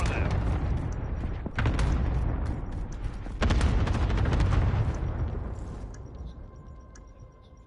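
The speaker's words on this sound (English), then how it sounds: "Enemy cluster strike incoming. Take cover." Rapid explosions and gunfire from an enemy cluster strike in a video game battle, loud and continuous, with two sharp blasts standing out before the rumble fades toward the end.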